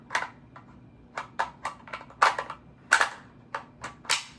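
Magazine handling on an M4 rifle, heard as a quick series of crisp, close metallic clicks and snaps, uneven in spacing, over a quiet background.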